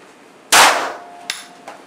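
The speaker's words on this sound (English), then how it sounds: "Two shots." Two shots fired during tactical shooting training: one loud, sharp report with a decaying tail, then a second, weaker crack about three-quarters of a second later, followed by a faint tap.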